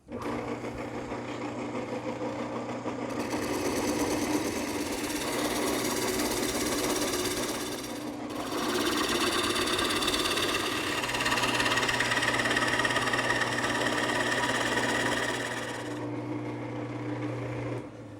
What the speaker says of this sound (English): I'm using the 1/2-inch bowl gouge to remove the material